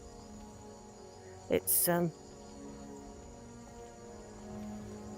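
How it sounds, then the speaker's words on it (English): Crickets chirp in a steady, high shimmering drone on a night scene in Skyrim VR, constant in the background, while a voice briefly speaks once in the middle. "listen to all the crickets"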